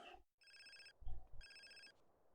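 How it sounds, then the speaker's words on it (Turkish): Phone ringtone in the video game GTA San Andreas: two bursts of electronic trilling ring separated by a short pause, with a low thump between them and no speech. "Ve telefonumuz çaldı hadi bakayım."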